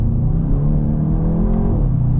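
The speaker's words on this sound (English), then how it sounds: "Just got a little wheel spin." A 2024 Volkswagen Golf GTI accelerates hard with a steady, loud engine drone and rising harmonics, ending in a short scrabble as the tires slip a little.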